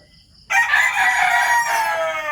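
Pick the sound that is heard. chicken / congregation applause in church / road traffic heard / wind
chicken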